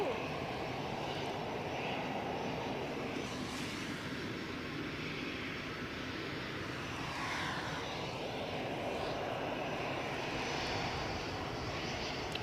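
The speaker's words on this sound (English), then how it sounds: "Another EasyJet sprinting down the taxiway to follow this" An EasyJet airliner taxis at Edinburgh Airport, a steady distant engine whine and rumble with faint shifting tones as it moves along, continuous from start to finish.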